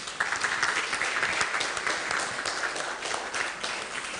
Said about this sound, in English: I think we have to give her a huge round of applause